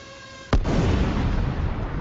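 An FPV drone strikes a Russian tank, setting off a single sudden loud blast. A dense roaring rumble follows and carries on for over a second.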